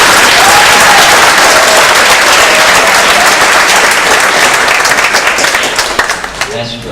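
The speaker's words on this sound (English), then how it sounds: "another round of applause for them" Graduation ceremony audience at a vocational training center breaking into loud, dense applause from a large crowd, sustained for several seconds before thinning into scattered claps as it fades at the end.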